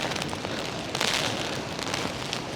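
Storm rain and wind lash Blackpool seafront during Storm Bert, a dense, continuous hiss of driving rain with gusty surges, loud and close, with no talking.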